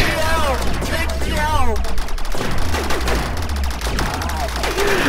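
Rapid gunfire from a Rec Room shooter game rattles on in dense bursts, with excited voices talking over it throughout.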